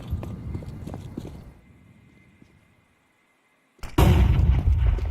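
Decoy grenade in Counter-Strike imitating gunfire: faint rapid pops and shots fade to near silence, then a sudden loud, dense burst of gunfire-like blasts erupts and continues.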